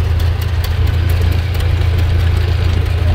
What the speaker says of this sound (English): Another John Deere B with a three bottom.